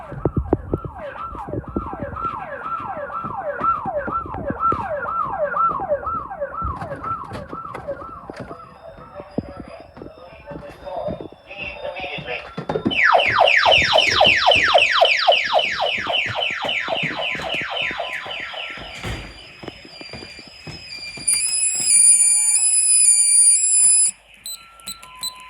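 A Honeywell Vista 20P burglar alarm going off indoors: a rapid repeating warble, then a loud continuous wailing siren, ending in high electronic beeps, with some brief talk in between.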